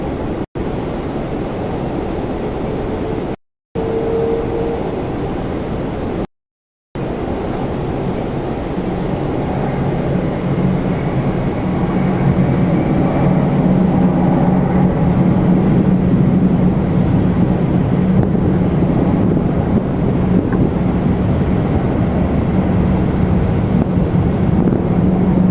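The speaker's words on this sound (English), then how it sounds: "Off to Fort Lauderdale, Air Canada 1024, A330-300." An Air Canada Airbus A330-300 jet takes off at Toronto Pearson bound for Fort Lauderdale, a continuous loud roar with a steady low engine hum, buffeted by wind noise and briefly cut out twice near the start.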